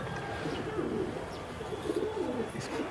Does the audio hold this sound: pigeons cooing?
yes